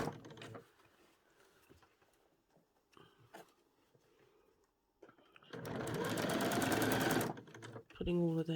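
A sewing machine stitches gathers onto a bodice for a dress, running in a loud steady burst for a couple of seconds after quieter handling noises, then stopping abruptly.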